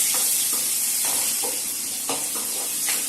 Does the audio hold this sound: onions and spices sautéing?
yes